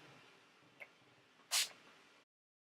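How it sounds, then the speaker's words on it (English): A small click, then one short hissing burst of Urban Decay makeup setting spray onto a brush, close and brief, against a quiet background that cuts off shortly after. "I'm going to spray my Urban Decay Chill Makeup Setting Spray on the brush"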